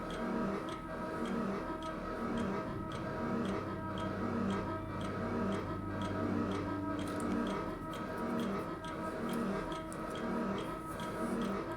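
A steady mechanical ticking timer from Silent Hill 2 clicks in an even rhythm over a dense, droning game ambience, continuous and fairly close throughout.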